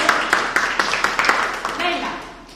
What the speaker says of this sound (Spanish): Suficiente, aplauso